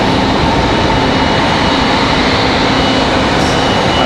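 A Boeing 737-800 airliner at Raleigh-Durham International Airport gives off a loud, steady jet engine roar that fills the whole stretch with no letup and no talk.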